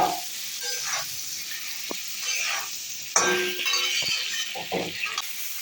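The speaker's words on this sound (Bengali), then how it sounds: "এবার দিয়ে দিচ্ছি একটু নুন, হলুদ দিয়ে আরেকটু ভালো করে ভেজে নেব" Bitter gourd fries in a pan with salt and turmeric, giving a steady close sizzle. A utensil stirs and scrapes through it, with scattered clinks and knocks against the pan.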